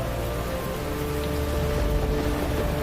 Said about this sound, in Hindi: कुछ ही देर में नगर में भयंकर वर्षा शुरू हो गई।